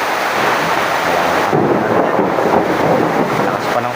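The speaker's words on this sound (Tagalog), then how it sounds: "Lakas pa ng kulog." Thunder rolls through a heavy rainstorm, a deep rumble that swells partway through and lingers over the steady roar of pouring rain and wind buffeting the microphone.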